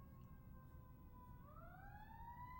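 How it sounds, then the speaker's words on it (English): An emergency vehicle siren wails steadily outside, loud and continuous, its tone holding level and then sweeping upward partway through. "That siren is crazy loud."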